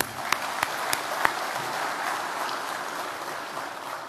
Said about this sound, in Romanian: Le urăm succes și aplaudăm!